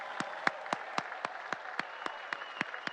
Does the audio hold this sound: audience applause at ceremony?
yes